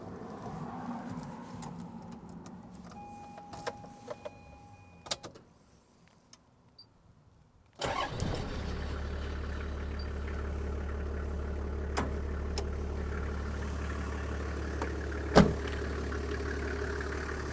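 A 24-volt Toyota Land Cruiser with a 1HZ diesel engine fires up instantly after a quiet stretch, then settles into a steady, loud, even idle that continues to the end.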